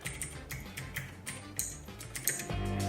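Keys clacking on a full-aluminum Fineday 3 mechanical keyboard with aluminum keycaps, a steady run of close, crisp strokes of moderate loudness with no voices.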